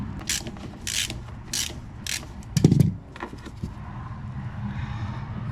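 A ratchet tightens the 7mm nuts on fuel hose clamps aboard a C-Dory TomCat boat, giving several short, close clicking bursts with a brief heavier clunk partway through.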